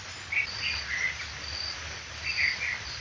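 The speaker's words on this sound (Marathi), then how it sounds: "सकाळ झाली पक्ष्यांचा चिवचिवाट" Small birds chirp and twitter in bursts over a steady hiss of morning rain, with the calls sounding moderately close against a constant wet background.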